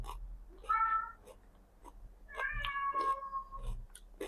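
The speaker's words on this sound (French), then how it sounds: "Là, elle miaule devant le placard." A cat meows in front of a cupboard, giving two drawn-out cries close by, the second longer and wavering, with quiet room noise between.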